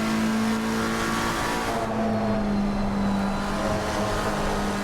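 A race car engine holds a loud, steady drone as it accelerates in second gear on a track lap, pitch shifting slightly partway through, with no talk.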